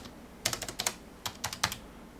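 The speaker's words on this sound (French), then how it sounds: "Touche entrée sur le clavier Logitech." Two quick bursts of crisp key clicks on a Logitech Illuminated Keyboard, several taps each, close and quiet against a hushed background with no speech.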